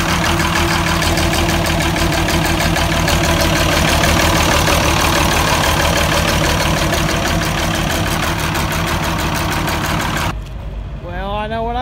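A loud vehicle engine idles steadily at an auction on a cold day, with a rhythmic mechanical throb, cutting off near the end as a voice briefly speaks.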